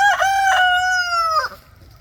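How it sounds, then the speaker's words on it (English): A backyard rooster belts out one loud, close crow, drawn out and ending in a short drop, in a chicken yard. "the rooster's almost ready for the freezer, Jack."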